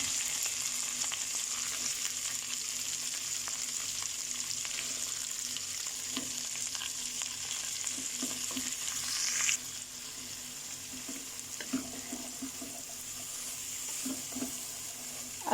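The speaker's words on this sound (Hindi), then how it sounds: "थोड़ा फ्राई करना है इस गार्लिक के मसाले में" Mixed vegetables fry in a garlic masala for schezwan fried rice, a steady broadband sizzle running throughout with occasional scrapes and clinks of a spatula against the pan.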